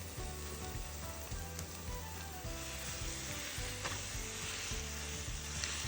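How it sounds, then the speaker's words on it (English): Ground beef frying in a skillet while a potato masher breaks it into smaller pieces, giving a steady close sizzle with rhythmic pressing and scraping strokes, fairly faint overall and free of talk. "Then I'm gonna add 1 pound of ground beef. I'm gonna break it up into smaller pieces."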